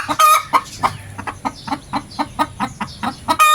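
A hen sitting on her first eggs clucks in a steady series of short, evenly spaced calls, loud and close, with brief louder squawks at the start and end.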